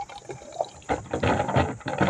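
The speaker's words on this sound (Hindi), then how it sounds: "मैं यानी नलके से पानी निकाल रही हूँ, आवाज़ बहुत कर रही है, हल्का रुक रुक के पानी आ रहा है" Tap water gushing out in irregular, sputtering bursts, with surges and short pauses as the flow comes and goes, fairly loud and close with no talk over it.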